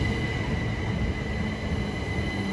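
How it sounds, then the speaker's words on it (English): A train idles at a station in Kent on the line toward Ashford, a steady loud rumble with a constant high electrical whine and no speech. "Right, here's our next train."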